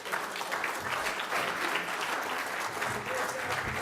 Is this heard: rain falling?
no